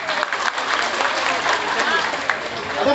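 An audience at a festive Shravan celebration in Dadar, Mumbai claps steadily in a continuous, fairly loud wash of applause, with a voice speaking over it.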